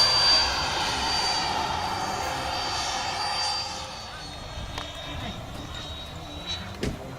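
Electric ducted fan RC F-22 jet cruising at half throttle after takeoff, a steady high whine with airy rush that stays fairly loud and even, then eases slightly as it passes, with voices talking over it.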